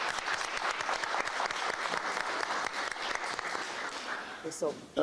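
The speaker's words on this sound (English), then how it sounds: "Give yourselves a round of applause." A crowd gives itself a round of applause, with thick continuous clapping across the room and a few voices mixed in, tapering slightly near the end.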